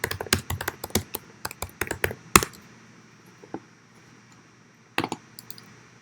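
Typing on a computer keyboard: a quick burst of close clicky keystrokes, then a firm tap, a pause and a couple of isolated key presses, with no voices.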